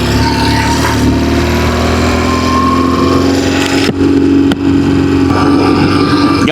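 A BMW R1150GS motorcycle engine runs loud and close during a road test, a steady rumbling drone with light throttle changes and wind rush, briefly dipping twice.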